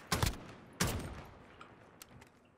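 Two loud, close bursts of rapid gunfire in Warzone, followed by fainter scattered shots that fade into quiet.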